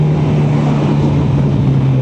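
A 2014 Honda CB1000R motorcycle engine drones steadily while riding near Sebring, Florida, a loud constant low hum with wind rush and no speech.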